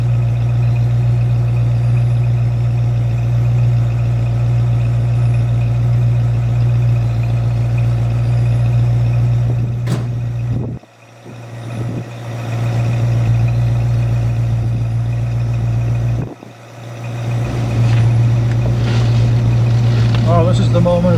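A 1966 Ford Mustang with a 289 V8 runs with a loud, steady idling rumble close by, dips briefly twice as the clutch is worked and then picks back up, while someone talks over it.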